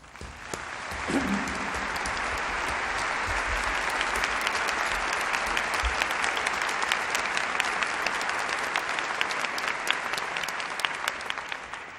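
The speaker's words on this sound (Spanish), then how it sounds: "Para él, para don Gavino, pido un aplauso." An audience at an Asturias Day medal ceremony applauds gold medal recipient don Gavino, sustained even clapping that swells in within the first second and carries on steadily for about twelve seconds, moderately loud and without speech.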